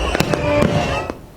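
Fireworks and firecrackers bang in quick succession, several sharp cracks within a second and a half over a crackling background, with a voice faintly underneath.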